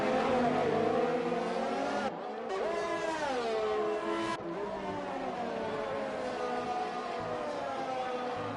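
Race cars in a sim racing game roaring past one another, engine notes rising and falling in pitch during an overtake, loud and continuous with a commentator talking over the top.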